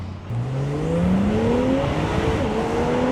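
Porsche 911 with straight-piped exhaust in sport mode, engine rising steadily through the revs with a raspy, accelerating drone, close and loud without talk.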